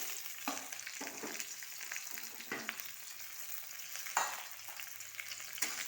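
Onions fry in hot oil for a peas and potato curry, a continuous hiss and crackle with several sharp stirring scrapes at irregular intervals, close and fairly quiet.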